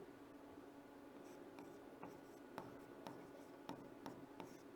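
Chalk or marker writing on a board in a technical classroom, giving faint, steady scratching with a few light taps, alone in a quiet room.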